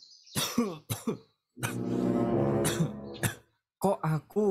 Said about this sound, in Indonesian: Kok aku bersin batuk gini ya?